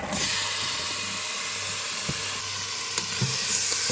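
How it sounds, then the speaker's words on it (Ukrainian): Vegetables and veal sizzle in a little hot oil in a bowl, a steady close crackling hiss with a few soft clicks and knocks throughout. "У чашу наливаю трошки олії, ви можете просто скористатися сковорідкою. Викладаю сюди овочі та м'ясо."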